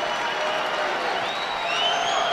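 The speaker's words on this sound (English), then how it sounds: "The Michigan crowd all standing and cheering" A Michigan basketball arena crowd on its feet during a Montana vs Michigan NCAA tournament game gives a steady, loud wash of cheering and applause, with whistles rising above the roar.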